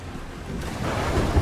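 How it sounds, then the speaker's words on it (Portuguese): Stormy open sea in the pirate game Sea of Thieves: wind and surf swelling steadily louder as a storm approaches, with a rushing low roar building toward the end. "Moleque, tá vindo uma tempestade."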